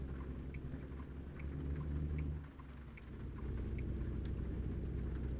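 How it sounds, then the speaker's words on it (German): Steady rain drums on a truck in American Truck Simulator, a continuous dense patter with low rumbling underneath that briefly dips midway before resuming at full strength, no voices over it. "Der Regen will aber auch nicht aufhören, ne?"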